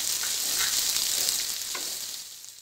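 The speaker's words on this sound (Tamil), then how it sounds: "வெங்காயம் போட்டு நல்லா ப்ரௌன் கலரில் வர வரைக்கும் நல்லா வதக்கிடலாம்." Onions sauté in a pan until brown, a steady close hiss of frying with a few soft stirring scrapes, fading slightly toward the end, no talking.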